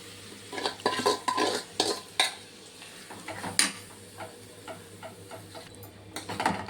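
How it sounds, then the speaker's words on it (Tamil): Ground masala being stirred into a sprouted-grain gravy in a pot, with clinking spoon-on-metal scrapes and taps in an irregular rhythm over a low steady hum, close and moderately loud. "அரைத்து வைத்த மசாலாவை அதில் ஊற்றி நன்றாக கிளறவும்"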